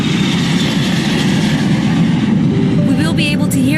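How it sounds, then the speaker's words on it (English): A low, broad roar of an airplane passing overhead fills a Mexico City neighborhood, loud and steady throughout, with faint brief voices near the end. "Wait, the plane."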